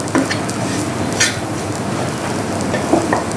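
Onion sizzles in hot oil in a pan while being mashed for a jackfruit seed kebab, a steady close frying hiss broken by a few scraping stirs and clinks.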